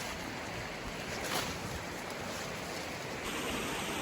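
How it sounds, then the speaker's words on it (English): Creek water rushes steadily at a trail crossing in a winter wilderness forest along Stanley Creek, a broad continuous wash of flowing water, near and moderately loud throughout, with no talking. "Oh, do we have a creek crossing?"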